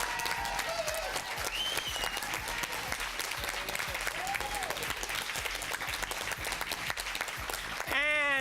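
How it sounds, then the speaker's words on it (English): An audience at a high school quiz event applauds a basketball coach with sustained, loud, dense clapping that carries on for several seconds, with scattered cheers and whoops rising over it. "Let's give a big hand to your coach, Ed Puccinelli."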